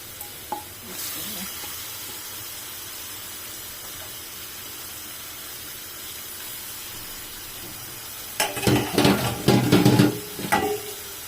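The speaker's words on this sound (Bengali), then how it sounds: "এখন দিয়ে দিব চিংড়ি মাছগুলো।" Prawns dropped into a pan of frying spice paste with ground garlic, a faint low hiss at first, then a sudden loud burst of crackling sizzle and spatter lasting a few seconds before easing.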